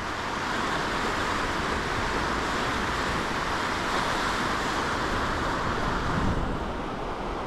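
A river rushes through a rocky canyon at Campbell River, British Columbia, at average flow, producing a steady, dense broadband roar that stays constant throughout with no voices.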